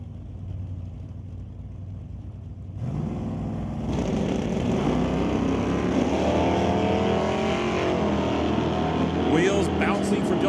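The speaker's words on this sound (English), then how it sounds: "Wheels bouncing for Dylan Scott as he takes off towards the quarter-mile mark." Drag race cars, a Chevrolet and a Chevelle, launch side by side in an ET series event, engines roaring loudly as they accelerate toward the quarter-mile with rising revs and gear changes, an announcer's voice over the noise.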